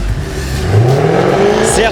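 A four-wheel-drive car revs in reverse and then pulls away, the engine note climbing and rising in pitch, loud and close, with someone talking over it.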